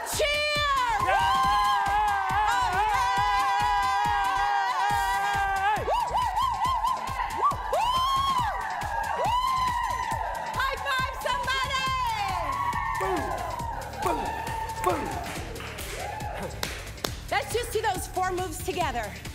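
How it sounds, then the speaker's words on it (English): An audience at an intenSati fitness event cheers and whoops loudly and continuously, shouts and high-pitched screams layered over the crowd roar before it tapers off near the end. "I want you to cheer for like 5 seconds straight, like it was the best day of your entire life"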